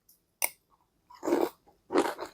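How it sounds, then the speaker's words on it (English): Crunchy sugar-free cereal being chewed close to the mic, a sharp initial crack followed by two thick, loud crunching bites with brief pauses between, no talking. "That is super crunchy, but like not crunchy in a way that's like super difficult to chew."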